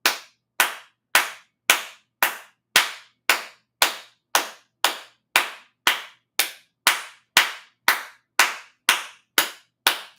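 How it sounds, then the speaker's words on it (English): Loud, steady clapping from a single person, about two claps per second, crisp and close, continuing evenly throughout with no talking. "I can't clap hard enough."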